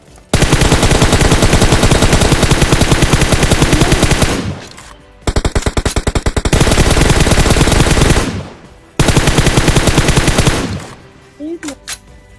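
Gunfire in the mobile battle royale game PUBG Mobile, with long bursts of loud automatic fire broken by short pauses, then a few single shots at the end, with voices talking underneath.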